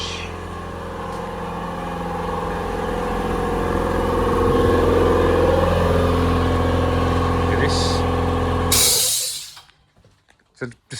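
A minivan fitted with a Hayabusa motorcycle engine and door bars pulls under throttle, its engine drone steady and close, swelling slightly mid-run before cutting off sharply near the end into a brief quieter stretch.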